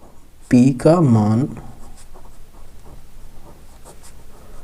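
An equation is written by hand during a Class 10 maths lesson: a steady, soft scratching of pen strokes runs through the clip, with a brief burst of voice near the start.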